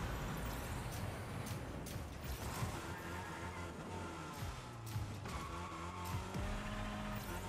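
A car drifts through a turn in the video game Rocket Racing, with a steady engine roar and rough tire and mechanical noise that runs continuously at an even loudness throughout.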